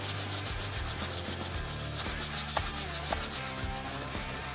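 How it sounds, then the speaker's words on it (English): A scraper works loose paint off exterior wood, giving steady rough rubbing strokes close up in repeated passes, with no talk. "Scrape off any loose paint."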